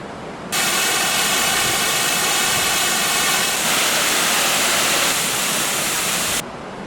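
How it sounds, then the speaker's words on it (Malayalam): A waterfall roars steadily and loudly as a dense, unbroken rush of falling water, close by and with no voices over it. "സൂപ്പർ വെള്ളച്ചാട്ടം."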